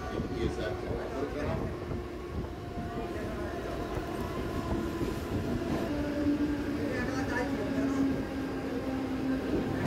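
A Mumbai local train on the Harbour line between CSMT and Vashi gives a continuous, even rumble and rattle from inside the carriage, with a low steady hum and wind rushing past an open door or window.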